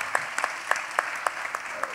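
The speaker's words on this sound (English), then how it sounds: "And applause." A radio town-hall audience at the Apollo gives brief, scattered applause, a handful of distinct claps landing in a loose rhythm over a steady room murmur, fairly soft and distant.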